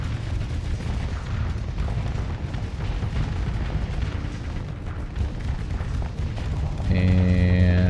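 Missile volleys launching in the space combat game Starsector, a dense continuous rumble of blasts and booms that swells louder near the end as tonal weapon hums cut in.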